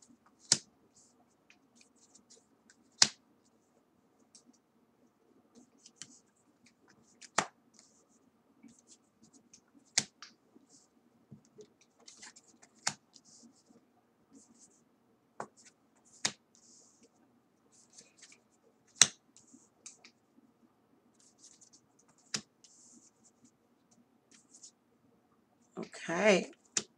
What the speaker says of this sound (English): let's go ahead and get the cards laid out there